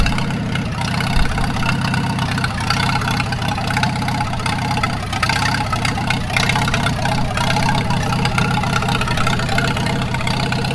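A 1942 Farmall H tractor engine runs steadily at idle on two-cycle fuel with its carburetor in need of adjustment, giving a loud, continuous low rumble with a faint uneven knock and no talking.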